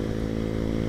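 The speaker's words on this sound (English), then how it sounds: "it's a small motorcycle with a small engine" A 2019 Husqvarna Vitpilen 401, a small motorcycle with a small single-cylinder-class engine, drones steadily while being ridden, its loud, even engine note holding for a second with no voices.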